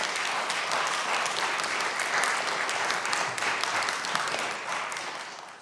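Steady, full applause from a room of attendees at a congressional hearing on VA benefits, sustained at an even level with no voices over it before tapering slightly at the end.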